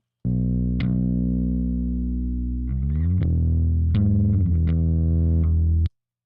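Sustained bass notes run through a compressor set to an extremely fast attack and release, giving a gritty, buzzing distortion over several held and changing notes, loud and alone.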